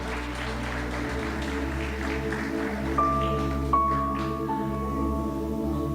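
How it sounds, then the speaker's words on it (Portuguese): A church congregation claps during a worship service, a soft wash of applause over a steady, sustained keyboard or organ chord with a few brighter held notes. "Se é para Jesus, pode aplaudir,"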